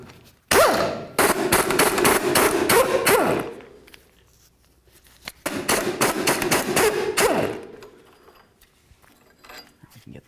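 Tie rod sleeve clamps are loosened on a Ford F-250, with two bursts of rapid, loud ratcheting or impact rattle, each lasting a few seconds and separated by a pause. The sound is close and fades out after each burst.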